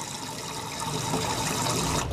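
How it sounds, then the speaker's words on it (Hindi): Hot water from an AO Smith geyser runs into a mug, a steady broadband pouring and filling sound held close and even throughout, with no talk over it. "ये पानी जो है मग में भर रहा हूँ मैं"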